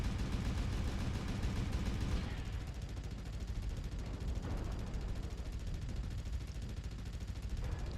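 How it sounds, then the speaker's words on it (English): Sustained dense gunfire from a mech's machine guns in MechWarrior Online, a loud continuous rattling burst that fills the whole stretch with steady crackle and rumble, no voices. "I'm actually hitting with my MGs over at this range."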